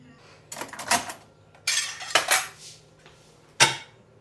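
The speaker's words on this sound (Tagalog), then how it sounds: "Bakit ka naghugas ng pinggan?" Plates and cutlery clatter during dishwashing in a home kitchen, with several separate bursts of clinking ceramic and metal, close and distinct, with quiet gaps between and no speech.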